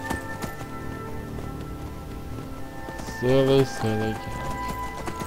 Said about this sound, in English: ride my horse across the countryside